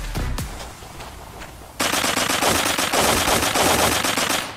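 Automatic gunfire from MP7 and XM8 guns in the video game Blockpost. Brief, faint noises come first, then a loud, sustained rapid-fire burst of shots runs close and continuous to the end.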